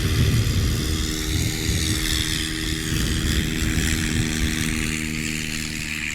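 A four-seat STOL light aircraft takes off at a short takeoff and landing competition, its propeller engine roaring loud and steady throughout.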